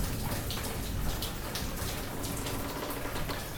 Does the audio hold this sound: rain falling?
yes